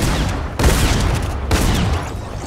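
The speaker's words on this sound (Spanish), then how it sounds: "se están disparando entre ellos" Rapid bursts of gunfire in the video game Fortnite, loud and continuous with dense overlapping shots across the whole stretch, no voices over it.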